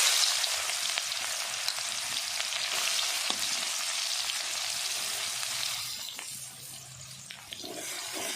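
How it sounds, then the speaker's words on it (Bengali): Cumin seeds and chopped onion frying in hot oil for a pangas fish curry, a loud steady hiss close to the pan that softens slightly toward the end, with a few faint stirring knocks and no speech. "পেঁয়াজটা ভালো করে লাল লাল করে ভেজে নিব।"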